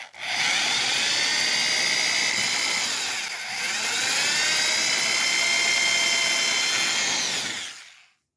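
Drill with a thin bit boring a pilot hole through taped material for a guitar tuner upgrade: a steady, loud high-pitched whine running continuously for about eight seconds, dipping briefly midway, then stopping.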